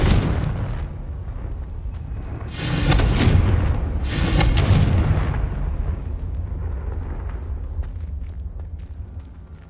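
Heavy blasting explosions from the Confringo spell in Hogwarts Legacy on PS5, two big booming bursts close together followed by a long rumbling decay, with no talking.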